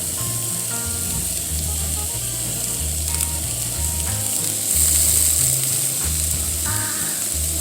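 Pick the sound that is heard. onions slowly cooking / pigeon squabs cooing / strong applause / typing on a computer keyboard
onions slowly cooking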